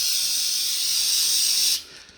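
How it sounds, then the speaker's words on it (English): Aerosol brake cleaner hisses in one steady, close, loud spray onto a hand for nearly two seconds, then cuts off abruptly, leaving a faint tail. "some brake clean, and I'm going to do the wrong thing, and I'm going to spray it on my hand like this"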